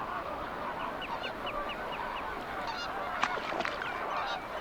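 Flamingos on open lagoon sand flats give repeated goose-like honking calls, a steady series of short nasal notes over constant flock chatter and ambient noise.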